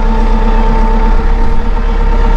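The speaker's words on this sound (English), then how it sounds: "Key switch down here, we're going to fire up." A Massey Ferguson 2860M compact utility tractor engine runs steadily at idle, a loud, close, even diesel drone with a constant hum and no speech.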